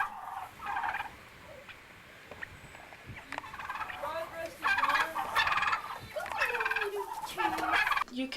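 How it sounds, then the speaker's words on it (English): Turkeys raised on a traditional homestead gobble in repeated loud, warbling bursts, the calls growing busier and denser through the second half against a quiet outdoor background. "You can raise turkeys"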